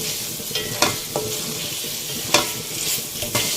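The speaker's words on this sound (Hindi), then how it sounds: "यहाँ बेले डाल के भी मैं इसको 2 से 3 मिनट तक भूनूंगी।" Besan gatte dumplings fry in a cooked masala in a pan, a soft steady sizzle with a few sharp scraping stirs of a spoon, close and fairly quiet, with no speech.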